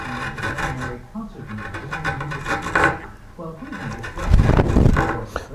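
A rasp or file shaping the wooden leg of a curved blockfront lowboy, repeated rough scraping strokes in an uneven rhythm, close and fairly loud, with a brief heavier rasping burst near the end.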